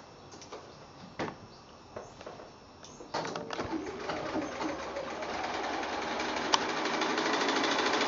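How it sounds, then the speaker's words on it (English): A sewing machine piecing a quilt block starts with a few scattered clicks and bumps, then runs into a steady, rising mechanical whir of stitching, close by. "So I'm going to go to the sewing machine and do that."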